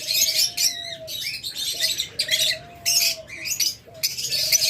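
A pair of opaline pet birds chirps and squawks close by in quick bursts, with short whistled calls running through the chatter and no talking.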